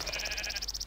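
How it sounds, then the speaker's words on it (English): Repeated sheep bleats from Minecraft, a steady pulsing run of short cries at moderate level with no talking. "That sheep is stuck. Let's go free the sheep."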